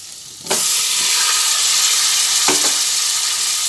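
Cauliflower hitting a hot pan with ginger, then a loud, steady sizzle and hiss of frying, broken by a couple of short scraping stirs.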